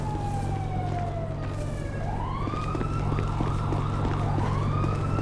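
A police car siren wails in the game GTA V, one long falling tone followed by repeated rising and falling sweeps, loud and steady over a constant engine drone during a chase.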